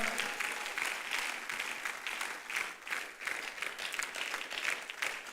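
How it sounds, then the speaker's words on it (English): Sustained audience applause at a ladies' edition gathering as a pastor is welcomed to the stage, dense steady clapping from a crowd throughout, moderately loud and fairly near. "Put your hands together for her."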